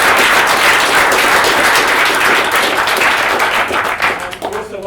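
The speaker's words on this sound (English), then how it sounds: "we'll give a round of applause to our panellists" Loud applause fills a room after a panel discussion on facial recognition and human rights, thick and sustained, then fades in the final second as a voice begins.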